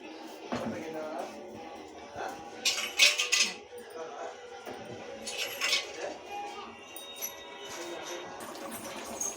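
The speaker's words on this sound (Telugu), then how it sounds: "ఇలా మసాలా మొత్తం కలిసేలాగా ఒకసారి తిప్పండి" Fish curry with masala being stirred in a pot, a spoon clinking and scraping against the metal in irregular bursts, with faint background voices.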